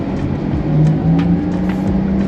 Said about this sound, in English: I highly recommend the electric Sport sound.